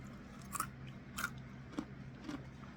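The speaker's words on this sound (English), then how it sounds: "Can you hear me crunching?" Four crisp crunches spaced about half a second apart, close to the mic, as someone bites into crackers over a low steady background hum.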